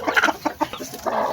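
Pet chickens being fed cluck close by in a quick, uneven run of short calls, a few sharper notes standing out, with no talk over them.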